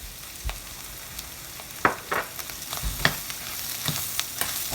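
Soya meat sautés in a pan with a low steady sizzle, punctuated by several distinct spatula scrapes and knocks against the pan at uneven intervals.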